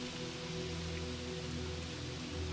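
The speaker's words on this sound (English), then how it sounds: "the rain begins to fall harder, a trickle of water turning into a drizzle" Steady rain falling heavier, a broad continuous hiss of drizzle with a low hum underneath, even and unbroken throughout.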